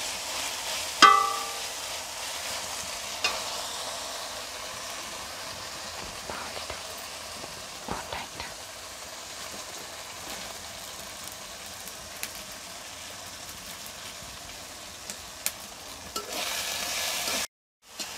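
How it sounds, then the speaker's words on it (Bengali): Spice masala for a mutton curry being bhuna-fried in a pot, with a steady low sizzle and occasional scraping strokes of a spoon throughout, no voices. "এখন ভালো করে কষিয়ে নেব, যাতে মশলার কাঁচা গন্ধটা না থাকে।"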